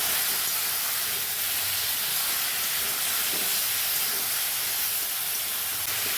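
Cut eggplant drops into hot spiced oil and sizzles with a steady, loud, broadband hiss that holds unbroken throughout.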